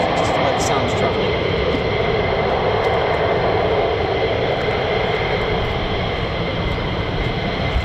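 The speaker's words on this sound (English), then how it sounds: "I can hear a non-F jet. Sounds like an alpha jet" An Alpha Jet flies overhead near RAF Lakenheath, heard as a steady, broad jet roar that holds at a constant moderate level throughout, with faint voices underneath.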